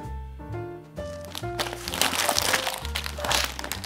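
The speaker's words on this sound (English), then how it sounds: "This plastic bag actually feels really high quality." Crinkly plastic bag handled during an unboxing of a diamond painting kit, a sustained close crackling and crumpling over soft background music.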